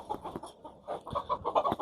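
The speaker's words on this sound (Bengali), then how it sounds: "এগুলো সবগুলো আমার দেশি মুরগির বা এটা অরিজিনাল দেশি মুরগি" Local desi chickens kept in a small cage cluck in short, irregular bursts nearby, several birds calling over one another with brief pauses.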